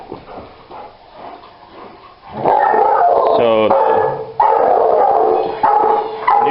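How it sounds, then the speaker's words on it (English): A dog barks repeatedly and insistently at a GoDogGo ball fetch machine, loud and close, with yips and howl-like barks in a steady burst after a quieter start with brief talk. "the new shorter timer is very nice because it cuts down on how long he does this barking"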